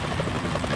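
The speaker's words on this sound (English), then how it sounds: "Is that a chopper I just heard?" In Metal Gear Solid 2, a helicopter's rotor chop thrums as a loud, continuous, textured drone in a short burst, with nothing else over it.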